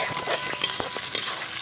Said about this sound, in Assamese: এইফালে পিঁয়াজ ভাজি আছে।